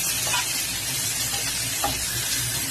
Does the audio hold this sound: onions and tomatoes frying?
yes